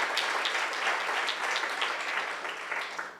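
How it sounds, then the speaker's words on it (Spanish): Audience in a church applauding together, a steady wash of clapping from many hands that holds for a few seconds and tapers slightly at the end, with no voices over it. "Así que démosle un aplauso a Dios por nuestros jóvenes."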